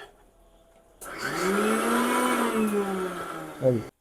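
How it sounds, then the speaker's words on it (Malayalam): A kitchen mixer grinder blending coconut, cumin, garlic and chilli starts up after a second of near silence, then runs as a loud, steady motor whine before a short lurch near the end. "എല്ലാം കൂടി കൂട്ടിയിട്ട് എന്ത് ചെയ്യണം മിക്സി ഇട്ടൊന്ന് അരക്കാൻ പോവാട്ടോ"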